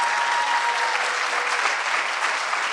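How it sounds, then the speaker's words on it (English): A crowd gives Edward a steady round of applause at a talk about Katrina babies and intergenerational trauma, a dense, even wash of many hands clapping at once without a break. "give Edward another round of applause"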